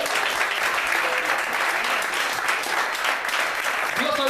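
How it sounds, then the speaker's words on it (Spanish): A church congregation claps hands in praise, a dense, loud, continuous wash of applause filling the room without pause, with faint voices mixed in. "Si puede usted darle una fuerte alabanza de palmas."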